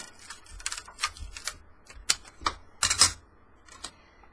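Sharp, irregular snaps and cracks come from CDs being cut in half by hand, each one close and loud against a quiet background.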